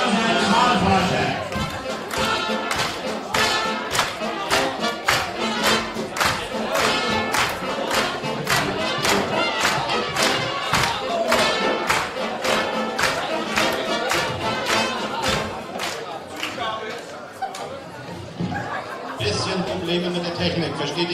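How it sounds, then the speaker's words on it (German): Indoor audience at a German carnival-style stage show clapping rhythmically for an election researcher, a steady, even beat of many hands mixed with crowd noise and voices. "ein Klatschbad für unseren Wahlforscher"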